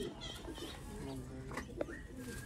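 Sialkoti pigeon cooing in soft, repeated throaty phrases, with faint voices and other background sounds mixed in.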